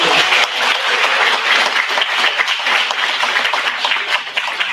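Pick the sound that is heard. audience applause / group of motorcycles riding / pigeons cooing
audience applause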